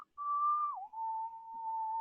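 A person whistles a clear steady tone near 1,200 Hz, holding one pitch, then sliding slightly lower and sustaining it for about two seconds, close and alone.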